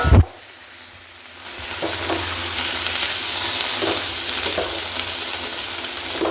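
Chili masala sizzles and fries in a pan for a chickpea curry, starting after a sharp clang with a steady, close crackling hiss that runs on with a few light stirring scrapes.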